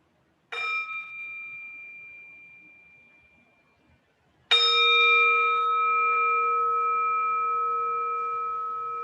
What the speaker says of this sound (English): Let's have a sound of the bell.